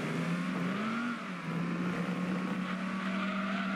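Racing car engines in the video game Gran Turismo 2, a Mercury Cougar chasing a Mustang, hum at a steady high pitch that rises and dips slightly, with a continuous loud drone and faint tire noise and no talking.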